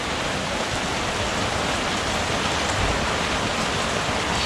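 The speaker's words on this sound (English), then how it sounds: "It's raining." Heavy rain pouring down steadily on a sailboat during a storm, a dense, loud, unbroken wash of noise close by with no pauses.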